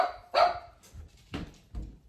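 A pet dog barks in a few sharp, close bursts spread across a couple of seconds, with short gaps between them and no talking over it.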